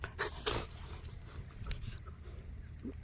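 A loyal female dog on a village farm gives a few faint, short sounds, distant and quiet amid low outdoor background noise.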